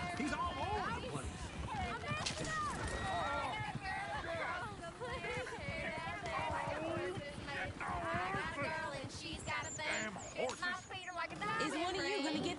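Galloping horse hooves from a runaway coach in the Red Dead Redemption 2 video game, a steady rapid clatter mixed with rumbling wheels and background bustle across the whole stretch.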